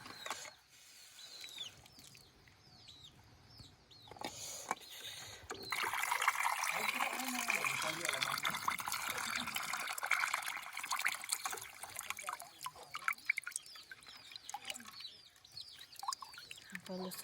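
Water is poured out of a pot of just-boiled eggs at an outdoor village firewood kitchen, a gushing splash swelling midway and trickling off, with birds chirping and people talking around it.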